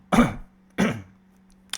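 Two short throat-clearing coughs, close and distinct, spaced about half a second apart, with a faint electrical hum underneath.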